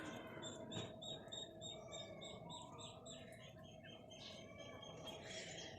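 Poultry chirp and call repeatedly at a distance over a steady low hum, with a faint squawk now and then.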